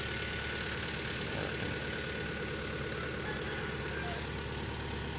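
Several motorcycle engines idle at a team's home base in Tambun, Bekasi, a steady low rumble with a faint rhythmic chug that holds evenly throughout, close and continuous.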